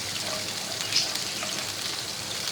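Water poured into ginger-garlic paste and spices frying in a pan, a steady hissing sizzle with light bubbling and spattering, close and moderately loud throughout with no voices.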